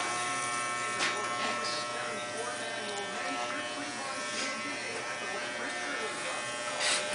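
Electric hair clippers shave a head, a steady close buzzing that runs through the whole stretch while people talk quietly over it.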